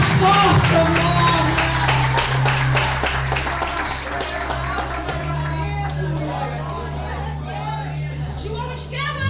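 A church youth congress congregation claps along in a fast, steady rhythm, many hands striking together close and loud, mixed with crowd chatter and a few whoops, over a sustained low musical drone.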